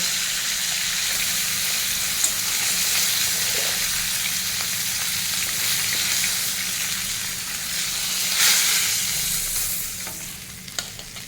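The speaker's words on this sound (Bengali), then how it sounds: "আর মাছ খুব বেশি ভাজবো না এবার তুলে নেব" Fish fries in mustard oil in a wok with a loud, continuous close-up sizzle and crackle, and occasional light clinks of a spatula as it is turned.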